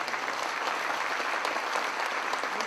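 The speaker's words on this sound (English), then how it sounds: "Let's give an applause." An audience at a football coaching seminar claps together in a dense, steady round of applause, even and sustained for a few seconds at moderate distance.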